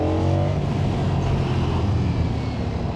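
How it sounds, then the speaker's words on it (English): A 2025 Ducati Streetfighter V4 S's stock exhaust rumbles deep and throaty up close, with the engine note rising as it revs, steady and loud. "the stock exhaust note on this"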